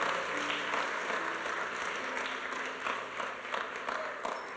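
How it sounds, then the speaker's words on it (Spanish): Church congregation clapping hard in praise during a Spanish-language sermon, a sustained, even ovation of many hands in a reverberant room with a faint hum beneath. "Dale fuerte ese aplauso a nuestro Señor"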